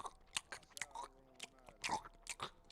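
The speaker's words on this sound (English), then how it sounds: "What the fuck is you chewing?" Someone chewing gum close to the mic, a steady run of wet crunching and biting sounds with soft smacks, quiet and without talk.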